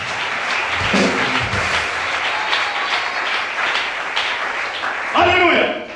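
A church congregation applauding during a worship service, continuous dense clapping with a voice rising over it toward the end.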